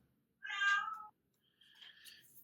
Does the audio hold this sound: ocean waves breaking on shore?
no